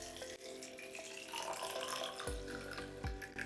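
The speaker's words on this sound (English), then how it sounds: "fill the container with water, but not all the way, leave some space for the plunger" Water runs into a container in a small, close trickle that turns into fuller gurgling splashes toward the end, quiet and without talk.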